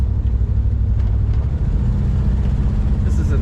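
A 1955 Chevrolet Bel Air convertible's engine runs with a loud, steady low rumble close by, the throttle eased smoothly with no sharp rev spikes.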